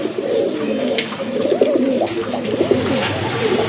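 A pair of Bombay pigeons coo steadily at close range, soft overlapping throaty calls rolling on without pause, with no voices.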